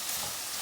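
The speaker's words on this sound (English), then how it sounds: "So in the pan, I just added my onions," Onions frying in a pan while being stirred, a steady bright sizzle that stays even and fairly quiet throughout.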